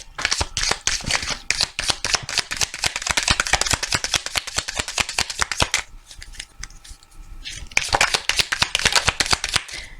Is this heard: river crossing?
no